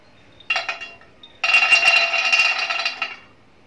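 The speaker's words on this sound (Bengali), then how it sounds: "এখন প্যানের ভেতরে বাদামগুলো দিয়ে দেব।" Peanuts tip into a pan on the stove with two bursts of clinking, rattling contact: a short clatter followed by a longer, steady scatter lasting about a second and a half, close and fairly loud.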